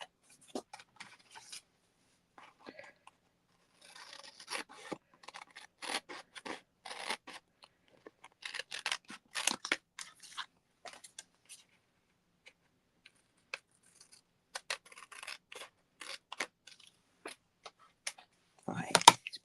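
Scissors cut down a sheet of adhesive paper scrap for greeting cards, giving irregular bursts of close, crisp snips and rasps with short pauses between them.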